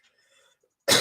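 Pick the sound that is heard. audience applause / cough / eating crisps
cough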